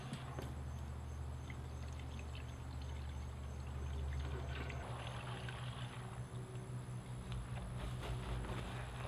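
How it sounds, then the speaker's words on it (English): A full gallon of liquid trap dye poured from its jug into a container, a continuous gurgling liquid stream that runs steadily for about nine seconds, fairly faint, with a low hum in the background. "I'm just going to pour this right out into my container here"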